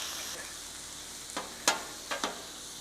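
Onions and beef frying together in a pan for a sandwich, a soft continuous sizzle broken by several sharp spatula scrapes and taps in the second half, no voices.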